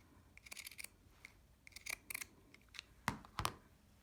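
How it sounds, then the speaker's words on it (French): Pinking shears notch fabric scraps for a sewn cat-shaped door draft stopper, giving quiet, close, crisp snips in uneven bursts, with two sharper cuts near the end. "avec vos ciseaux cranteurs"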